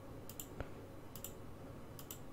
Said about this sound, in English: I keep clicking the wrong buttons.